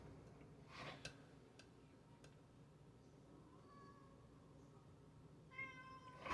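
A house cat meowing to be let in out of the cold, a few faint meows and a louder cry near the end, with light ticking and clicking in a quiet kitchen.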